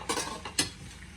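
Utensil clatters and scraping against a pan as cream and Parmesan are stirred into shrimp and zucchini noodles, two sharper clinks standing out over a soft background.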